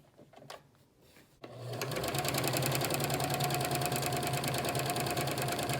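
A Kenmore 385 series sewing machine running decorative stitch number 8, starting after a few soft clicks and then holding a fast, even mechanical whir with a steady rhythmic needle beat, close and alone.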